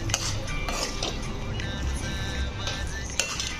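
Metal utensil clinks and scrapes in a pan as mixed cauliflower, peas, capsicum and paneer curry is stirred with fresh coriander, a few light taps close by over low kitchen noise.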